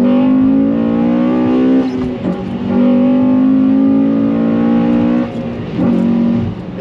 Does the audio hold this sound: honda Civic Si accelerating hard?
yes